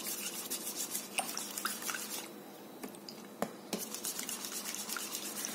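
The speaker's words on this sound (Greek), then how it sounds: "Ρίχνω τη μαγιά μέσα, πάρω και ένα κουταλάκι και θα την ανακατέψω." A teaspoon stirs yeast into water with a little flour below while making pizza dough. Faint, quick clinks and taps of metal against the bowl come with soft watery swishing, close up and without voices.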